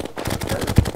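Rapid gunfire in the video game Terraria, a steady series of quick, evenly spaced shots running through the whole second with one slightly louder hit near the end.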